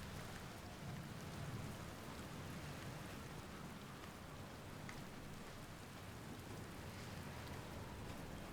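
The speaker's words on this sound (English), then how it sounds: "The little streak of rain going down the helmet is a great touch." Steady rain pattering on a spacesuit helmet in the Outer Wilds video game, a dense, even hiss of drops held close and constant throughout, with no voices.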